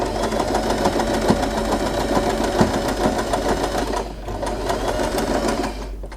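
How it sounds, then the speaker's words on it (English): Home sewing machine stitching a fabric hair bow centerpiece: steady, fast mechanical hum and rhythmic needle clatter, close and continuous, slowing slightly near the end. "To sew the centerpiece, I always move my needle here to the left side so it gets really close to the hair bow, and we can just start to sew it."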